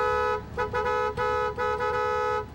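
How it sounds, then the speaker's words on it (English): A minivan horn honks repeatedly at a gas station, a series of steady tonal blasts of varying length separated by short gaps, fairly clear over low background noise. "We even went inside to make sure the clerks could hear the horn."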